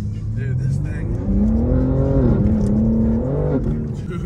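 Engine of a BMW M3 G80 sports car revving, a steady loud mechanical drone with rising and falling pitch sweeps as the throttle is worked, heard close and continuous.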